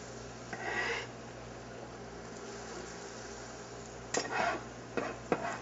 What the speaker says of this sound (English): we're going to go and add in our fennel and our onions that we've diced up